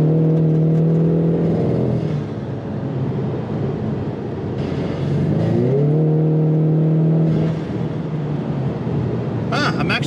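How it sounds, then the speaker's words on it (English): A car engine revved hard with the accelerator floored, a loud sustained drone whose pitch climbs, drops back, and rises again in surges. "I'm gonna floor it and, you know, James Bond everyone."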